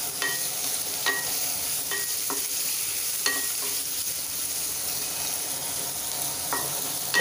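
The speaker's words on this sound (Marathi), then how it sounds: "आता आपण हा कांदा छान परतून घेऊया।" Onion with pieces of green chili fries in a pan with a steady sizzle, while a utensil scrapes and stirs at a loose, irregular rhythm up close.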